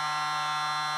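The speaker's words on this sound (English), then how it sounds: "The buzzer sounded as Ladakh skate away with a 15-0 lead." An ice hockey arena's end-of-period buzzer at a winter games match blares as a loud, steady electronic drone, a single continuous tone held alone for the whole second.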